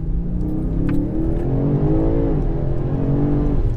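A four-wheel-drive car in Sport mode with its driving aids switched off accelerates hard, the loud engine note climbing steadily in pitch, dipping briefly at a gear change and then rising again, close and continuous with no talking.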